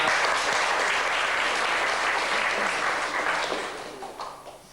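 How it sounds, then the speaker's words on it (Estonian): Crowd applause at an evening gathering of a motorcycle rally, a thick sustained clapping close and loud, thinning and fading toward the end. "Aplausid siis on."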